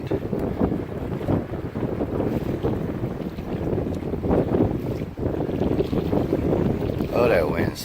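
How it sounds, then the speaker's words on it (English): Strong wind roars across open water while a bait boat is tested, giving a loud, constant buffeting rumble on the microphone that masks most other sound. "Oh, that wind's terrible."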